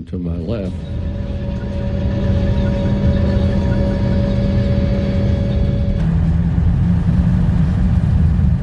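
German tank engine in a street battle in Cologne, a heavy low rumble with a steady mechanical drone and whine, holding throughout with a slight shift partway, under narration.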